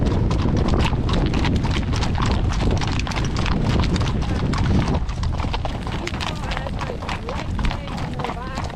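Horse hooves clop in an uneven, continuous rhythm close by as the horse walks through water, with splashing and rustling movement throughout and faint voices in the background.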